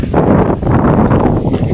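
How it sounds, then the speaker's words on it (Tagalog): Strong wind with rain buffets the microphone in a steady, roaring rush of noise that rises and falls slightly throughout, with no voices heard. "Grabe, ang lakas ng hangin."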